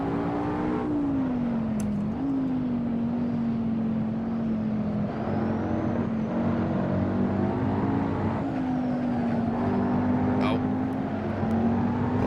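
A McLaren MP4-12C in Assetto Corsa drives with a steady, loud engine drone that rises and dips through gear changes and lift-off oversteer, the car audible throughout beneath occasional talk.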